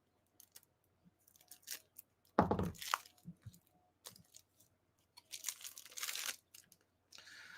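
Packaging around Gloomhaven Forgotten Circles board game cards is torn open by hand, with close, crisp bursts of ripping and crinkling plastic in irregular spurts separated by short pauses.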